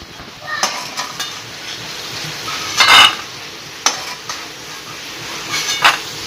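Roasted peanuts are scraped and stirred from a pan onto a plate, giving scattered rattling clinks and a few sharper metallic scrapes against a faint background hiss.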